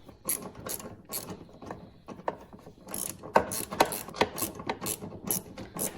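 A ratchet with a 10 mm socket works on a bolt during timing belt and water pump work on a Dodge 4-litre engine, giving repeated quick clicking bursts close by and fairly quiet, with no voices.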